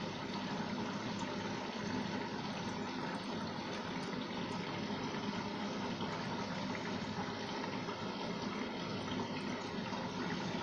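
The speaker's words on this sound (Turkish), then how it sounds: "Şimdi suyunu alsın, tekrar devam edelim. Bakın su alırken püskürtüyor da kenarında." Washing machine filling with water and spraying at the edge of the drum: a steady, even hiss and rush of water, quiet and continuous with no talk.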